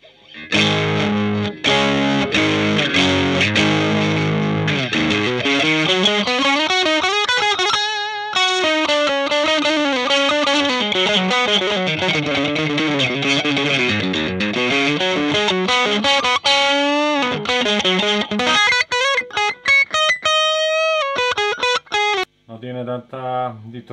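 Electric guitar played through an Ibanez TS808 distortion pedal at full gain, a loud, dense, saturated tone with sustained chords and runs that fill the whole stretch, briefly dropping out near the end.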